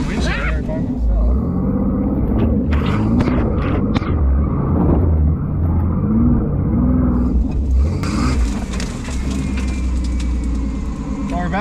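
An off-road truck rig climbs a hill with a steady, loud, close engine rumble and roar that swells as it pulls upward, sustained throughout.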